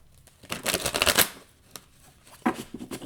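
Tarot cards being shuffled up close: two quick riffling bursts, the first longer, separated by a short pause.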